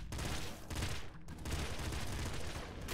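Rapid sustained gunfire from a triple assault rifle in the Nuclear Throne video game, a dense continuous volley of shots at steady high volume with only a brief dip near the middle.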